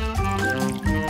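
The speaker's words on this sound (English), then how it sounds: "you need to pour a little oil into the pan" Cooking oil pours from a bottle into a frying pan in a kitchen, a steady close liquid stream with a faint trickle over about a second, no talk.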